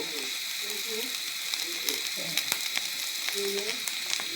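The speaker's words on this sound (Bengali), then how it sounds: "লাল লাল করে ডিমটা ভেজে নেব, 2বার করে ডিমটা এভাবে ভেজে নেব" Egg pieces fry in oil in a pan with a steady broadband sizzle throughout, dotted with sharp crackles and pops and occasional clatter of a utensil, while faint indistinct voices murmur underneath.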